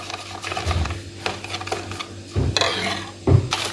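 Coconut cake batter with ghee, egg, yogurt, oil and sugar is stirred in a bowl, giving close scraping and clinking strokes in irregular bursts with brief knocks against the bowl.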